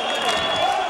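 Boxing arena crowd cheering at a Vic Darchinyan title fight, a steady close roar of many voices filling the hall with no break.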